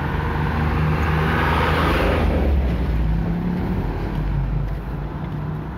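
Truck passing on a rural road near an abandoned house in Jember, a loud low rumble swelling and fading over several seconds, close by, with steady engine drone and road noise and no speech.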